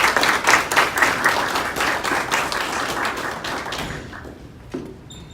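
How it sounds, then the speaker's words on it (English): Applause from the audience at a county board of education meeting, with close, sharp individual claps that are loud at first, then thin out and fade to a few scattered claps and near silence. "Let's give them one more round of applause"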